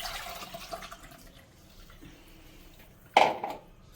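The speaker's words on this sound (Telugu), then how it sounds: "సో కరెక్ట్గా 2 గ్లాసెస్ అయితే వాటర్ పోసేసుకొని కొంచెం ఇది బాయిల్ అవ్వాలి" Two glasses of water are poured into a cooking pot of vegetables, with a soft running trickle followed by a sharper, louder splash near the end.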